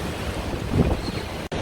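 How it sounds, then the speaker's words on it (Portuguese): Strong gusting wind roars and buffets the microphone in a heavy windstorm, with a steady, loud rushing that swells briefly midway and then cuts out for an instant near the end. "Que ventania!"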